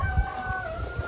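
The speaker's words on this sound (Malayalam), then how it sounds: "നാടൻ കോഴിക്കളുണ്ട് ഇവിടെ." Native country chickens on a resort farm in Wayanad, with a rooster's crow and soft clucking amid steady outdoor ambience, fairly quiet and close.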